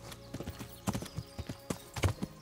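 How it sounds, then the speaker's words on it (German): Horse hooves clip-clopping at a steady riding pace in the video game Kingdom Come: Deliverance, close and fairly quiet, with faint tack rattle and no voices. "vielleicht sollten wir doch Richtung Stadt reiten. Geschwind."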